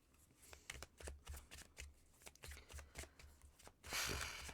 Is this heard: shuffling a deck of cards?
yes